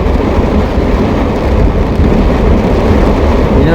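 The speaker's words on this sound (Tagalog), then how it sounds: "lakas ng ulan" Loud, dense roar of heavy rain pounding on a moving vehicle, constant and unbroken, with a deep rumbling undertone.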